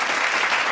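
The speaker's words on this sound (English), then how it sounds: "Let's give him a round of applause." Brief burst of dense, steady applause from a small group of podcast guests and hosts, a short clapping wash with no pauses.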